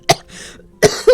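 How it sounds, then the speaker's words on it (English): Two or three sharp, close coughs break out in quick succession, with a brief breathy pause between them. "but it ends in a coughing fit."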